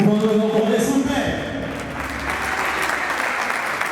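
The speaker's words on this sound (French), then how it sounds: "Maximum d'acclamation," Theatre audience at a live stage show breaking into loud applause and cheers, the clapping swelling from a ringing voice into a dense, sustained wash of hands.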